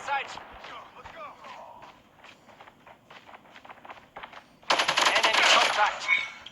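An RPD machine gun fitted with a cooling compressor barrel in Call of Duty Mobile. After several seconds of scattered game voices and footsteps, it rips out one loud, sustained automatic burst close up.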